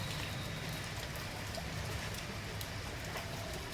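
Steady rain falling outdoors, a constant close hiss of drops with faint scattered ticks and no voices.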